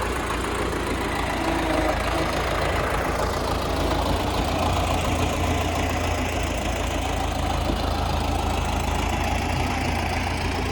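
A YUMZ tractor engine idles steadily with a low, constant rumble on a sunflower planting field, a front ballast of seven 45 kg weights mounted and a Kuhn Planter 2 seeder hitched in transport position; no voices.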